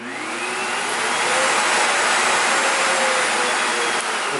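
Sebo Felix 9809AM pet lift-away vacuum cleaner running steadily, a loud continuous broadband whoosh and motor whine that swells slightly after the first second and holds with no talking.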